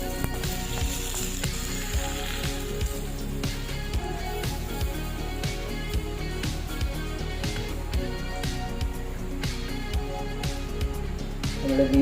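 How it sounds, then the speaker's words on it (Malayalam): Mustard seed tempering with curry leaves and red chillies sizzles close by as it is poured into beetroot pachadi, a steady crackling hiss with scattered pops lasting throughout. "നമ്മുടെ കടുക് താളിച്ച് അതിനകത്ത് ഒഴിക്കുക."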